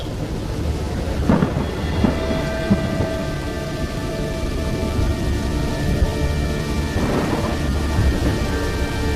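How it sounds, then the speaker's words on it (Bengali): Cartoon thunderstorm with heavy rain, a steady loud downpour roaring throughout while two deep rumbling thunderclaps break through, one early and one near the end. "আজকে তো অনেক জোরে ঝড় বৃষ্টি হচ্ছে"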